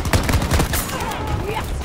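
Rapid gunfire crackles in a busy video game battle, several sharp shots in quick succession amid loud game noise, with a voice briefly audible.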